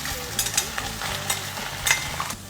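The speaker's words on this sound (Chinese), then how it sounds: "现在起锅烧油炒肉酱" Minced beef stir-fries in hot oil in a wok, a steady crackling sizzle broken by quick scraping stirs and clatters, close and fairly loud.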